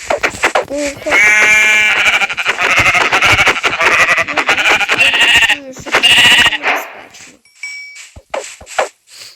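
Loud, wavering Minecraft sheep bleats, one long cry after another, with a bright chime near the end.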